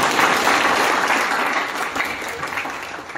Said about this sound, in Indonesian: tepuk tangan bagi dia